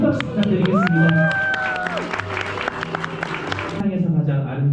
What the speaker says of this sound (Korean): 이제 떨리는 아버님의 손을 잡고 입장하는 신부님에게 다시 한번 큰 박수 부탁드리겠습니다.